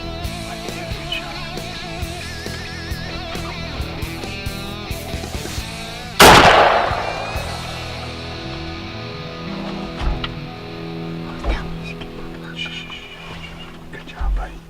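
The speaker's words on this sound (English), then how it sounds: "You shot that buck." A single loud, close rifle shot cracks out as a youth hunter fires at a deer buck, ringing off over quiet outdoor ambience, with hushed whispering before and soft talk afterward.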